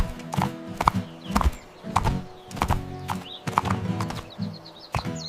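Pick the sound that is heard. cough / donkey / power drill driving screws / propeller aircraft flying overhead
donkey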